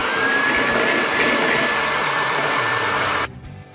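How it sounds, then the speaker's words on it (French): An electric mixer whips egg whites with a pinch of salt into stiff peaks: a loud, steady whirring drone that holds evenly, then cuts off abruptly just before the end. "je vais maintenant monter mes blancs d'œufs en neige"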